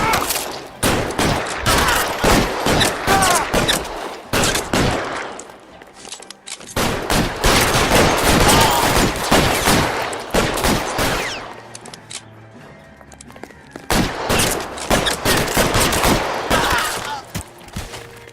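Loud bursts of gunfire in an L.A. Noire shootout, dense volleys of shots in several long stretches separated by brief lulls, close and intense.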